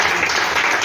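A congregation applauds during a church service with a brief, dense burst of loud clapping that holds steady without pause and has no clear voices over it.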